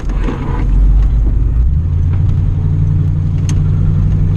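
Engine of a second-generation Pontiac Firebird Formula rumbling steadily from inside the car through a hard hairpin curve, a low sustained drone with no talk over it.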